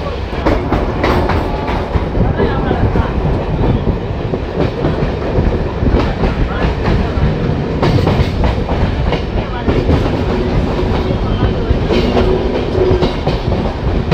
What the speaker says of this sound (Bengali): ট্রেন ভীষণ সুন্দর একটা কার্ভ নিয়ে ধীরে ধীরে দুমকা স্টেশনে এন্টার করছে।